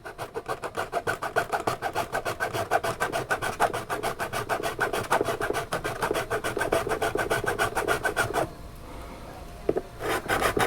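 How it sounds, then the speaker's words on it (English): A small hand file rasps back and forth across a plastic board in a steady, rapid rhythm of close strokes, continuing for most of the stretch before breaking off into a short pause and then resuming briefly. "Okay, so I just got my small file. Make sure you protect the board, and all you do is file. File one way, file the other way."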